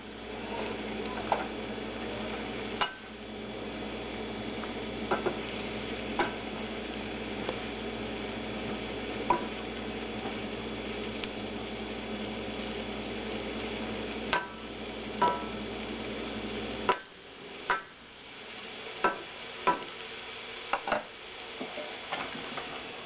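Cabbage fried in a pan and stirred, a steady soft sizzle with scattered scraping clicks of a utensil turning it, fairly faint and without talk.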